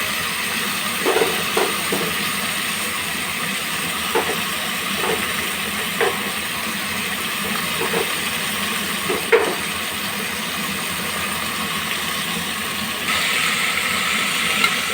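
Broad beans frying in hot oil in a pan give a steady, even sizzle with scattered soft pops and crackles throughout, close and moderately loud, with no voices.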